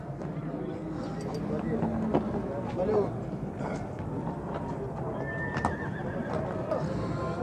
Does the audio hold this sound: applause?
no